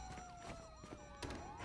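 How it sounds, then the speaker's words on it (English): A police siren in Grand Theft Auto V wails in rapid up-and-down sweeps, quiet and somewhat distant, with a couple of dull thuds and low game noise underneath. "you hear that? Siren"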